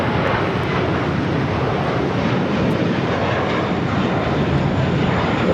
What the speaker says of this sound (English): This is JetBlue Airways Flight 1124 taking off to JFK on an A321.